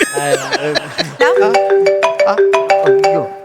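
An electronic phone ringtone plays a bright melody of short repeated notes. It rings clearly and close for a few seconds, following a brief burst of voice at the start.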